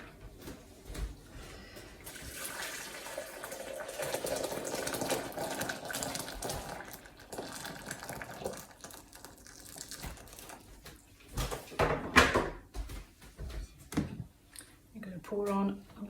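Boiling water from a kettle pours over elderflowers and citrus zest in a kitchen, a soft, steady gushing that runs at low level with faint clatter and brief talk near the end.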